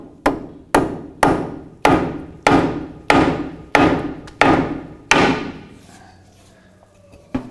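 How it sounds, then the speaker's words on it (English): Small hammer tapping a screw threaded onto the outer tie rod stud of a 2007-2013 Mitsubishi Outlander, about nine sharp metallic blows at a steady rhythm, close and loud, then a pause and one last hit. "Tap that down till it releases."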